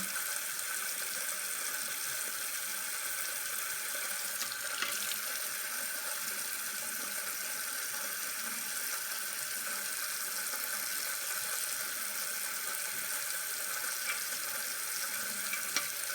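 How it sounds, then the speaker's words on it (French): Tap water runs steadily into a sink while hands are rinsed after cuticle scrubbing, a continuous hiss with no voices. "j'ai fini de rincer mes mains, de frotter les cuticules"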